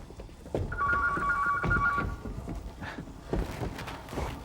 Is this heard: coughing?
no